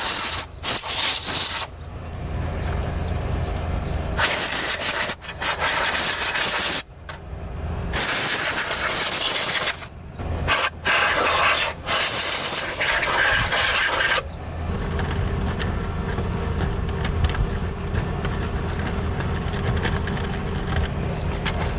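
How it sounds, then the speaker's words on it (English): Compressed air blasts dust out of an old soda vending machine that has sat unused for years. Loud, close hissing bursts start and stop several times, followed by a longer steady blast. "get a compressed air and blow that out"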